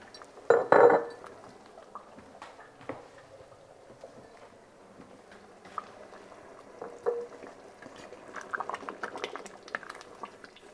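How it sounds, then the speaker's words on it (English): Glass canning jars clink and knock against each other as they are set up beside a canner, with one sharp ringing clink near the start and then scattered light taps and rattles, while something bubbles softly in the background. "I'm going to go ahead and get my jars set up, my canner ready"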